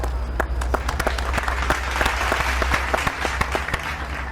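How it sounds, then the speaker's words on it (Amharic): A studio audience at a television show claps in a steady burst of applause, with sharp individual claps standing out over the crowd at moderate loudness. "አጨብጭቡለት"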